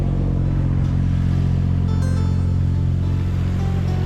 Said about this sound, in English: There's a tractor behind me,